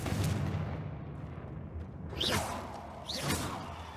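Spell-casting in Hogwarts Legacy: two rising magical whooshes with bursts, the second following about a second later, over a steady game ambience with no talking; the Confringo fire spell cast at a wall.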